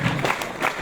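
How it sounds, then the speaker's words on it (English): Students at a school assembly clapping together, a brief burst of crowd applause at fairly close range with a faint voice under it. "Come on, clapping everybody."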